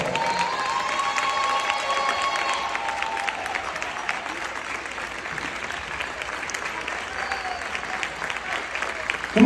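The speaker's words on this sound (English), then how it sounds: "Let's give them a round of applause." Sustained applause with scattered cheering from an audience at a State of the City address, dense, steady clapping filling the room without a break.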